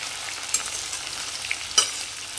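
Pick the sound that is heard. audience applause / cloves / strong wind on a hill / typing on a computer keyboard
cloves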